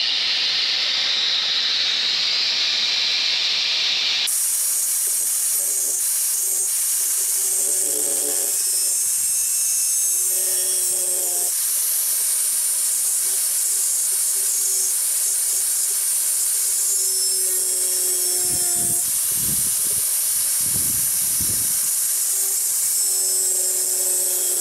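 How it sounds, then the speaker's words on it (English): A power grinder works on a vehicle hard top with a continuous high, hissing whine that shifts in pitch as the tool bites and eases off over a long, steady stretch. "You watching me do all this grinding."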